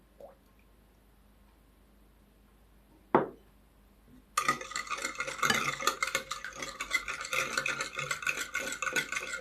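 Dough mixture with oil stirred in a bowl for sweet rolls: near-silence and a single sharp knock, then a steady, close, wet churning of stirring for the last five seconds.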